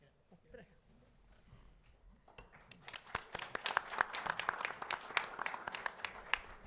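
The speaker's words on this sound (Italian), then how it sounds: "L'applauso valga anche naturalmente a Antonella e a Marco Tirelli per questa bellissima mostra." Applause from an audience after a talk at an art exhibition opening: quiet murmuring at first, then scattered claps building into a steady round of clapping, moderately distant and with a slightly uneven rhythm.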